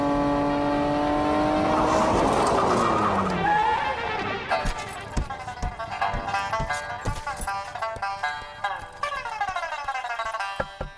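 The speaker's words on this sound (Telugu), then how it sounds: "ఆటో ఏదో వచ్చినట్టుంది" An auto rickshaw in Bangkok pulls up, its engine noise swelling loudly for the first few seconds before fading beneath rhythmic music with sharp beats.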